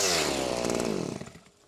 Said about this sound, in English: That is fixed for the weed whacker.